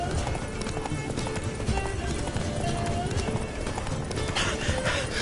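Horse hooves galloping in The Witcher 3, a continuous rapid clip-clop of a running horse mixed with dense game ambience and movement noise, loud and close throughout.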